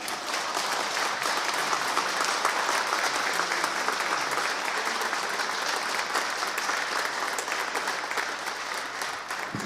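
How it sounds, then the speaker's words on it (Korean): Steady applause from a church congregation at a farewell ceremony for a departing priest, broad and continuous for the full stretch with no voices standing out. "박수 부탁드립니다."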